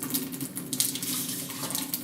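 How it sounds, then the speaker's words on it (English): Water pours from a cup into a pot of long-grain rice, a steady close splashing stream lasting throughout with a faint hum beneath. "So we are going to add water to our rice here"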